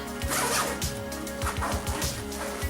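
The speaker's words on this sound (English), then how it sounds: "Zip this up" A Shacke Pak packing cube being zipped closed, several quick rasping zipper pulls with short pauses between them, close and fairly loud, with light rustling of packed fabric and no talking.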